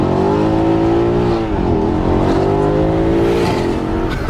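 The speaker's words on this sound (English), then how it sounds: "I just got traction in 3rd gear." A Nissan Skyline R32 pulls hard in third gear, its engine roaring loud and close with a steady rising tone throughout, a slight dip midway, and no voices over it.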